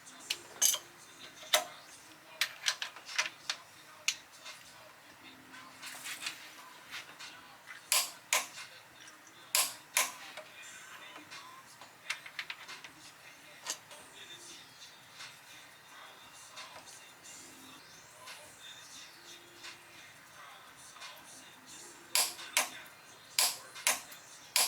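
A large torque wrench tightens the cam bolts on a turbocharged Nissan 240SX engine, giving sharp intermittent ratchet clicks and ticks close by in a quiet garage, spread unevenly with short gaps between bursts.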